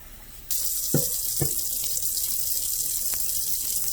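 Water gushes steadily from a tap after it is turned on, with a couple of light clunks near the start, close and constant.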